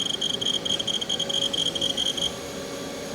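A Haas VF-1D CNC vertical machining center spindle turning at 1,000 RPM, giving a steady, close mechanical hum with a high whine and a fluttering, rasping texture that cuts off near the end, leaving only a quieter background drone.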